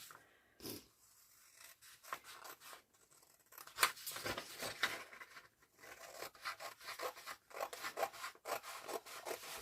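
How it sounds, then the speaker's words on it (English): Scissors cutting out a paper pocket from old packaging for a junk journal, a quiet irregular series of snipping and rubbing cuts in close, intimate detail with no talk. "So I'm just going to use my scissors to cut this out."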